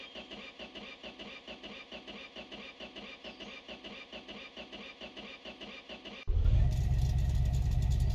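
A Ford F350 truck engine cranks with a steady, rhythmic starter chug for about six seconds, then catches and roars to a loud, sustained idle up close.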